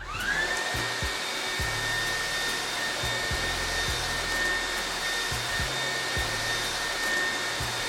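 A Dreame T20 cordless vacuum cleaner runs with a continuous high motor whine and airy rush, punctuated by a few soft low thumps as the head moves, close and steady throughout.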